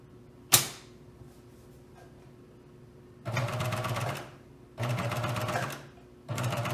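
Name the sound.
sewing machine topstitching a seam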